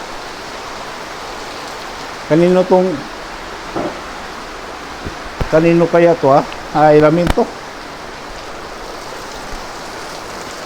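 Heavy rain pours steadily during a storm, a constant hiss of loud close rainfall heard throughout as people speak briefly over it.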